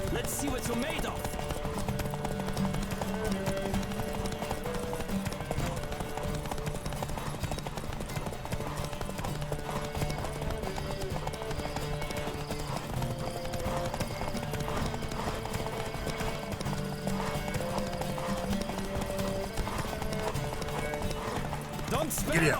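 Steady rapid hoofbeats of a horse galloping in a race in the video game The Witcher 3, with occasional whinnies, game music underneath and voices calling out over the pounding clip-clop.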